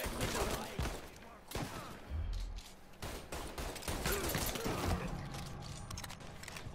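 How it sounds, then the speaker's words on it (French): A gun reloading in Mafia 3 on PS4, with mechanical clicks and ratcheting clacks over busy game sounds and intermittent shots, moderately loud and close. "je recharge"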